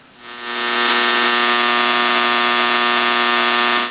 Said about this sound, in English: I've got about an S7 line noise level here on 80 meters